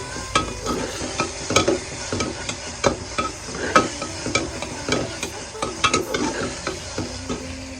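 Masala and Indrayani rice are sautéed in a pot for masala bhat. A spoon scrapes and clatters in quick, irregular strokes over a low, continuous sizzle, close and fairly loud throughout.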